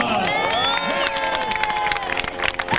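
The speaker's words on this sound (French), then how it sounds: "est-ce que vous voulez hurler et applaudir?" An airshow crowd with a Fokker Dr.1 triplane on display cheers and applauds, shrill shouts and whistles over scattered clapping, loud and close, building toward the end with voices mixed in.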